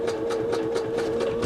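A Singer 638 Touch and Sew sewing machine runs slowly under foot-pedal control, giving a steady motor hum with a soft, even rhythmic clatter of the needle, close and alone.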